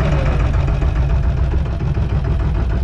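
A boat engine on Chilika lake chugs close by with a low, knocking, vibrating rhythm. It runs steadily throughout at a loud, even level, with no voices heard.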